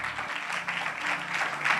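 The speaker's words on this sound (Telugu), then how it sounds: "చప్పట్లు కొట్టలేదు ఎవరు?" Church congregation applauding, a brief burst of many hands clapping together, close and steady, with a faint low hum underneath.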